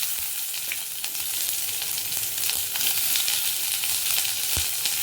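Onions and mustard seeds fry in groundnut oil with a loud, continuous close sizzle and crackle, a few sharper pops breaking through near the end, with no talking.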